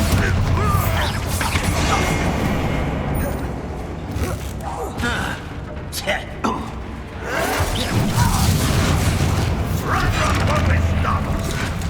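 Bombarda explosion spell cast during a fight in Hogwarts Legacy, loud booming blasts and cracks within a continuous dense battle din.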